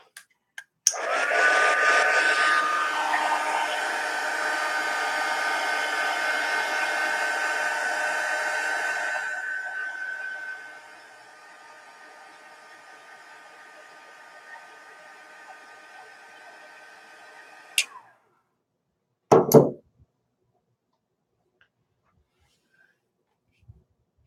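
A hair dryer blows close by for several seconds to dry masking fluid on a canvas, then drops to a lower, quieter whir before clicking off, followed by a brief clunk.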